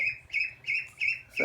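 Homestead poultry calling in the morning, a close series of four or five repeated squawking calls in an even rhythm, followed by a brief rougher sound at the end.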